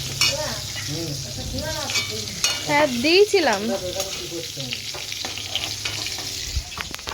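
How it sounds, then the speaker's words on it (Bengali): Eggplant slices sizzle and spit steadily in a frying pan, with a brief spoken reply partway through over the continuous hiss of the oil. "আমি হচ্ছে এখন বেগুন ভাজা করছি"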